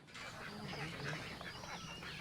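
Ducks quack in a short, busy burst on a farm, several overlapping calls close by with a soft outdoor background.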